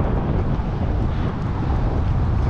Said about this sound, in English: Wind has really picked up since we launched.